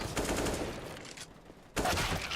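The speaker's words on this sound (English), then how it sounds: "everybody's getting shot to pieces" Automatic rifle fire in a CS:GO professional match on the Inferno map, a sustained burst of shots, a short lull, then another burst cutting in sharply.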